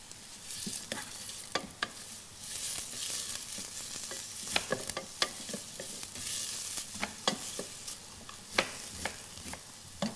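Onion frying in a pan for pumpkin kibbeh while a utensil stirs it: a steady sizzle runs throughout, broken by repeated sharp scraping clicks at an uneven rhythm, close and fairly quiet, with no talking.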